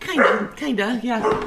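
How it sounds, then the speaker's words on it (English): A nervous house dog barks a few times in quick succession after hearing a noise, close and fairly loud, while people talk over it. "Well, we hear the puppies."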